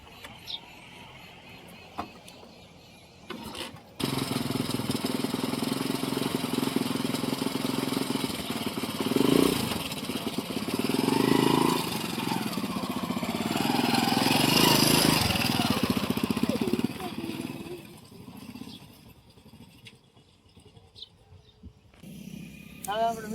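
A new two-wheeler motorcycle starts at a New Year blessing ceremony. The engine catches and then runs at a steady hum with swells of revving, and voices talk faintly over it.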